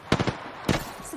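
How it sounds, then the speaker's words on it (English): Sniper shots ring out in the Apex Legends video game: three sharp, loud reports in quick succession, a pause, then a fourth crack, each with a short decaying tail. "Whoa, to our left, sniper fire."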